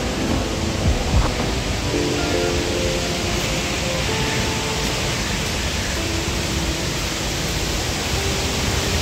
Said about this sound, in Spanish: Y ya se escucha cada vez más cerca. Son dos cascadas.